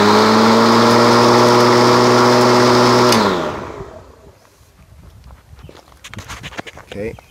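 A battery-powered 24-volt electric lawnmower motor hums loudly and steadily with a strong tonal whine for a few seconds, then spins down and cuts off, leaving quiet background rustling.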